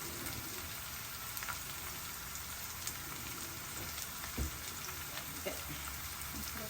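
Chopped garlic and onion frying in hot oil as seasoning for a beans stir-fry, a steady close crackling sizzle with faint occasional pops and stirring clicks, no voices.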